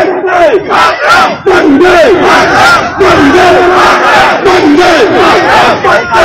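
A large street protest procession against railway privatisation, a dense crowd loudly chanting slogans in rhythmic, repeated call-and-response bursts, close and sustained throughout.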